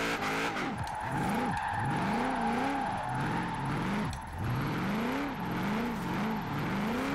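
Mitsubishi Lancer Evolution IX drift build sliding on a downhill run in Forza Horizon 4, in fourth gear with e-brake pulls: a steady engine drone with repeated rising and falling tire squeal as the car swings through corners, no talk.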